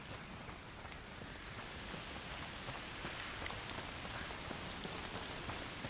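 Steady rain falls in the video game A Plague Tale: Requiem, a soft, even patter of drops on surfaces that continues quietly and without a break.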